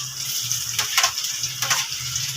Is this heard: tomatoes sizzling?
yes